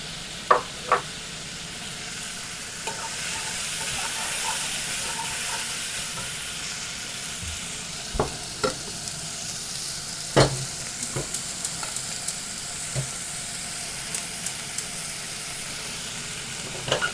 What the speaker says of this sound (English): so there's the onions cooking up